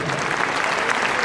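Audience clapping at an awards ceremony, a dense, steady burst of many hands filling the room, loud and close for a short moment.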